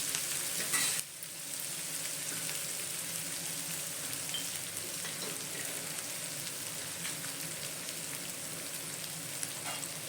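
Curry leaves fry in hot oil for lemon rice, making a loud, dense sizzle with fine crackles. A sharper burst near the start settles into steady spattering that carries on to the end.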